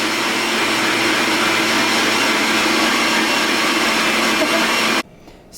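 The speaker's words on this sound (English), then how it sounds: "Throwing everything in a blender doesn't seem very French or very precise to me, but it's just a big batter." An electric blender runs at high speed mixing crêpe batter of flour and liquid, giving a loud, steady whirring roar for five seconds before it cuts off sharply.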